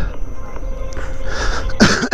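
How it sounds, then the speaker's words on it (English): A man riding an electric unicycle on city streets coughs a few times, harsh throaty bursts that build to a louder, sharper cough near the end, close to the microphone amid faint background noise. "First bit of talking to start coughing again"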